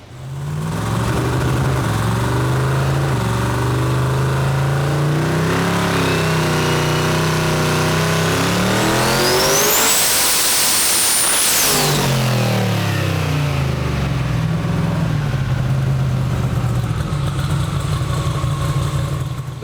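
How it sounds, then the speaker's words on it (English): A turbocharged car engine with surge valves idles, then revs up hard to a screaming peak and drops back, the valves dumping boost as the revs fall before it settles again into a loud idle. "The surge valves are opening up and dumping off all the boost"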